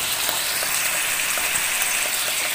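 Alexandrian-style liver fries on a gas stove, a steady, close, loud sizzle with faint stirring clicks throughout, no voices.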